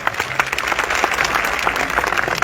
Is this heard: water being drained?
no